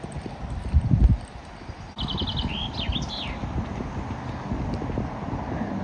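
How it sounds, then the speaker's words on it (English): Horse hooves clip-clopping in a rhythmic gallop outdoors, with strong wind buffeting the microphone and a few brief bird chirps overhead. "I'm going to gallop back."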